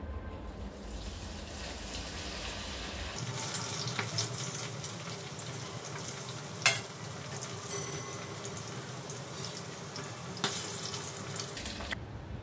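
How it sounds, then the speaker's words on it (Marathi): A batch of corn kernels deep-fries in a pan of oil, giving a continuous, moderately quiet bubbling sizzle with occasional sharp pops and a slight drop in background rumble partway through. "आपली एक शेवटची बॅच राहिली आहे, ती तळून घेऊया."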